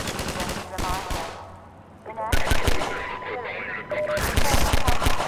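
Half-Life 2 gunfire cracks out in repeated sharp bursts, with machine-gun style volleys and single shots scattered across the scene, loud and close amid other game sounds and brief voices.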